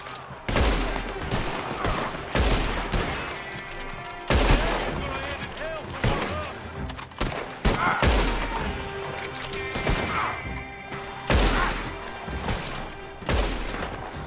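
Gunfire in the online mode of the video game Red Dead Redemption 2: loud, repeated gunshot bursts and ragged volleys run through the whole stretch, with someone talking over the shooting.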